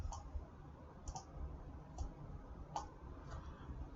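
Faint, crisp computer mouse clicks, roughly six spread unevenly across a quiet room-tone background with no talking.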